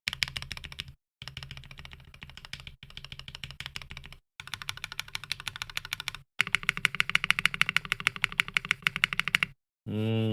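Rapid clacky keystrokes on a custom mechanical keyboard kit built from metal, wood and fabric, typed in close bursts separated by brief pauses, ending with a quick rising clatter.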